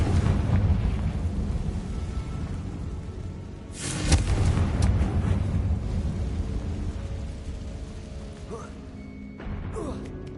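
A Confringo explosive spell cast in a Harry Potter video game bursts out as a loud, sudden blast with a rumbling crash, rising out of ongoing game sounds and voiced dialogue.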